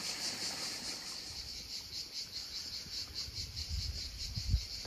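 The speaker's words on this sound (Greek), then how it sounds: "Ακούτε και τα τζιτζίκια" Cicadas drone steadily in a Corfu village, a bright high-pitched pulsing buzz that carries on continuously at low volume with no voices.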